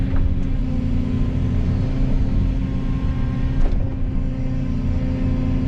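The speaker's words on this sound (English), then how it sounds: "Oh boy, the truck is stuck." A truck stuck at a pond construction site runs its engine continuously, a loud, steady low rumble with a faint rise partway through. It sounds close and is heard alone, with no voices.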